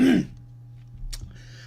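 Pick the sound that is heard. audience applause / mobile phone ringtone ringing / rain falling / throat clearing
throat clearing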